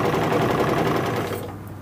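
A sewing machine stitches cloth while making a blouse drawstring, a fast, even mechanical rattle of needle strokes running close and loud before slowing and stopping near the end.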